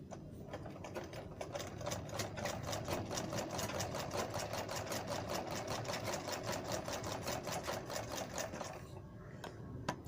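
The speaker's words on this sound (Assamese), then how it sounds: "এতিয়া চাওক মই এইটো ষ্টিচিং কৰিম।" A sewing machine stitches a seam on a simple blouse, running in a steady rapid chatter of needle strokes for about nine seconds before stopping near the end, close and loud with no talk.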